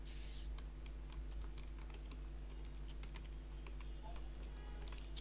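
Someone types code on a computer keyboard during a web design lesson: sparse, soft key taps sit over a steady low electrical hum, close but quiet, with no talking.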